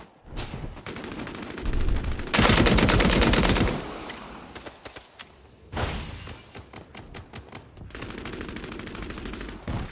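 Heavy automatic gunfire in a first-person shooter match, with loud sustained bursts of rapid shots separated by quieter gaps, close and intense, with no talking over it.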